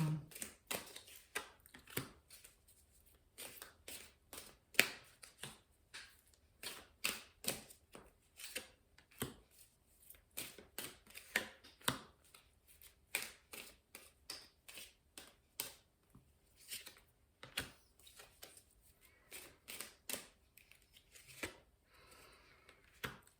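Tarot cards being shuffled for a reading give a long run of quick, crisp riffling flicks and taps, close and fairly quiet, in an irregular rhythm with no talking.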